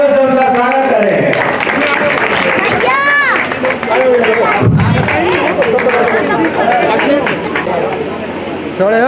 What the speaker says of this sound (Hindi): बहुत तेज जोरदार तालियों से उनका स्वागत करें।